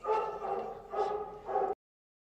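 A distressed dog yelps and whimpers in three close, strained bursts, each rising and falling, loud and near with no talk over it.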